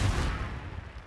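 The Confringo blasting spell goes off in Hogwarts Legacy as a loud, booming explosive blast that rumbles and fades away over about a second, heard alone.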